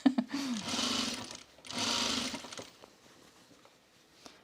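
Sewing machine stitching along the facing seam of a V-neck coat, two sustained bursts of close, steady whirring separated by a short pause, then quiet handling clicks.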